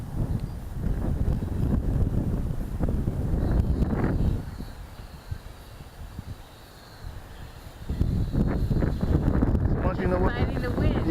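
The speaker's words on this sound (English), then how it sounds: "I'm fighting the wind." Strong wind gusts blow across the microphone outdoors while a small toy quadcopter drone is flown, a loud blustery roar that rises and falls as people talk over it.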